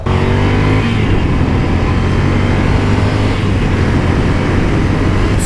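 A Ducati Scrambler motorcycle engine drones steadily while riding on Los Angeles streets, a loud, continuous close rumble with wind noise and no break.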